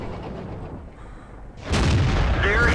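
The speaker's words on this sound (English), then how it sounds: "Here's artillery" Artillery fire in the World of Tanks video game, a single heavy boom erupting partway through after a quieter stretch, loud and sustained as its rumble rolls on to the end.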